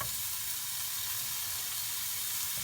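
Beef fillets sizzling in a pan, a close, steady hiss of frying that holds evenly throughout.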